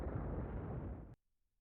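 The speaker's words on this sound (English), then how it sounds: "I took that plasma torpedo." A plasma torpedo strikes a ship in a Star Trek space combat game, a fairly quiet, rumbling explosive burst that roars for about a second before cutting off abruptly into near silence.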